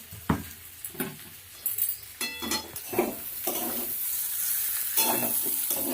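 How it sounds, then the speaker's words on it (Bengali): Gobindobhog rice, cauliflower and potato with spices frying in a pan with a continuous sizzle, repeatedly stirred with clinking and scraping of a spoon against metal, close by. "সুন্দর গোবিন্দভোগ চাল আর মশলা ফুলকপি আলু একসঙ্গে ভাজা হচ্ছে"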